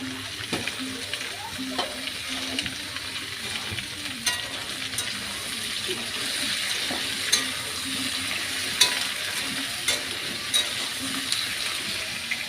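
Eggplant pieces fry in oil in a pan, giving a steady, close sizzle with scattered sharp pops and crackles throughout, and no voices.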